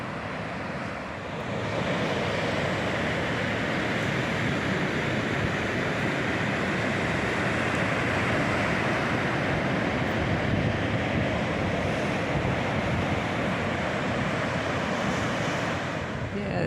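Steady roar of sea waves breaking below coastal cliffs beside a walking path, a continuous wash of surf mixed with wind buffeting the microphone, no talk.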